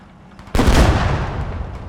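A tank main gun firing in the military video game Squad: one loud, sudden blast that rings out and decays slowly over the next second and a half, with no voices.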